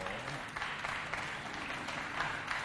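Audience applauding a guest from the Sainte-Thérèse d'Avila parish youth coordination, a steady moderate patter of many hands throughout, fairly even with slight swells, no clear voices over it.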